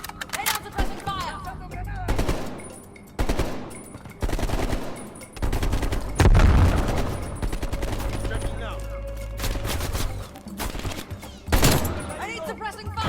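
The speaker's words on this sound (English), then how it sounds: "Lay down suppressing fire." Heavy suppressing gunfire in the video game Call of Duty: Black Ops Cold War: loud bursts of automatic fire and single shots come in repeated volleys, with booming impacts between them.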